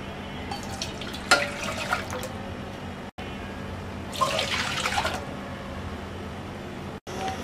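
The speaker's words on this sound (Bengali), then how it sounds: "আমি একটা সসপ্যানে দিয়ে দিচ্ছি 2 কাপ দুধ" Two cups of milk pour into a saucepan in two short bursts of liquid splashing, each about a second long, over a steady low hum, with no one talking.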